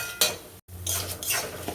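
Broken wheat (dalia) with vegetables frying in a pan while a spoon scrapes and stirs it in a few quick bursts over a soft sizzle, with a brief silent cut partway through.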